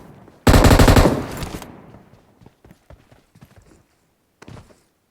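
A loud burst of automatic gunfire rattles for about a second in PUBG Metro Royale, followed by scattered footsteps and small clicks, then a short second burst near the end.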